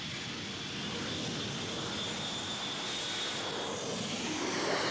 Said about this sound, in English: a French cargo plane ignores the threat of missiles to bring 32 tons of food to children